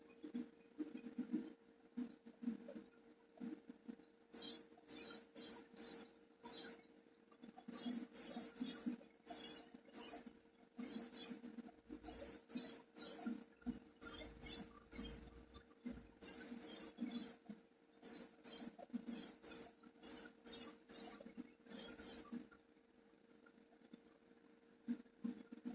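An aerosol can sprays paint onto the base of a Dinky toy model car in many short hissing bursts, grouped in quick runs with pauses between, close and clear over a low background hum.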